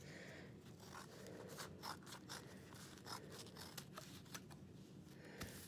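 Scissors snip through strips of paper for making paper beads, a quick run of close, crisp cuts repeating at an uneven pace with no talking.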